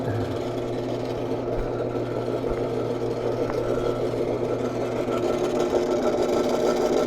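A lapidary 270 grit wheel runs steadily while a Missouri agate is polished against it, producing a continuous motorized hum with grinding texture and occasional faint knocks; no speech.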